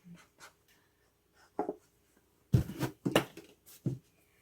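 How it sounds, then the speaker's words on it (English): A pen or marker writes on the side of a plastic milk jug taped with duct tape, making short, close scratchy strokes in separate bursts with quiet gaps between them. "I'm going to write on it, on the side"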